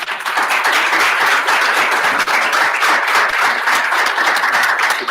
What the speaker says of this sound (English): Another round of applause for Dorian.